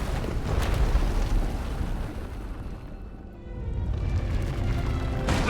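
Vaylin's runaway power erupts in Knights of the Eternal Throne as a heavy rumbling blast that dips briefly and then surges back into a roaring, crashing explosion, with no one speaking.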